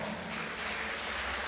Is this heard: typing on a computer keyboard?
no